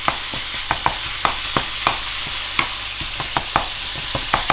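Seasoned ground meat for a tomato Bolognese sauce fries in a pan with a loud, steady sizzle and regular sharp scrapes and taps of a utensil breaking it up.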